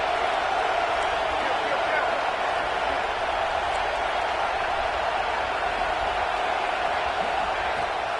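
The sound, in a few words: football stadium crowd cheering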